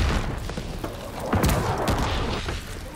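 A grenade blast in a multiplayer shooter hardpoint match, a loud boom near the middle amid continuous gunfire and game noise.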